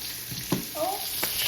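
Andouille sausage fries in a pan with a steady close sizzle, broken by a few brief stirring clicks and scrapes.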